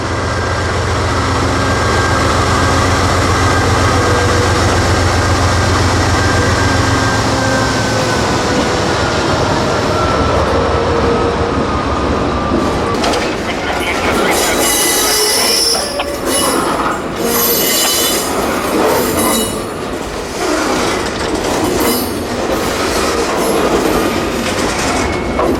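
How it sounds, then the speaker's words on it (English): A yard switcher locomotive pulls a long cut of about 21 auto carriers out of the yard, producing a loud continuous rumble with rolling wheel noise, squeals and clattering rail joints that grow busier and rattlier midway through. "the 511 yard switcher starts pulling those car carriers out and down to the south end"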